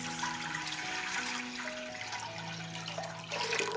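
About 1.5 litres of water pour steadily into a pot in the kitchen, a continuous splashing gush with rising tone as the pot fills, close and alone for nearly four seconds.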